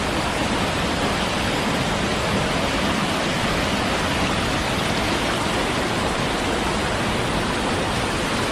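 The Devkund waterfall in Odisha roars as a dense, unbroken rush of falling water, loud and steady throughout with no voices.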